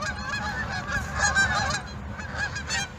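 A flock of geese honks repeatedly while flying overhead, the calls overlapping in an irregular chorus and fairly close, with no talking.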